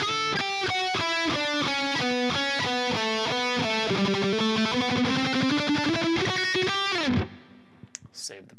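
An electric guitar plays a melodic phrase from a song with distortion, a fast run of picked notes shifting in pitch for about seven seconds, then ringing out and cutting to near silence.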